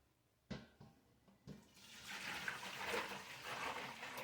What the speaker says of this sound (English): I'm going to put my broth back in my pan.